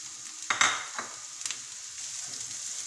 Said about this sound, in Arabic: بعد ما سخن الزيت نضيفو هنايا الكميه تاع البصل هذيك حبه بصل اللي قلت لكم قطعناها شكل صغير ونخلوها تتقلى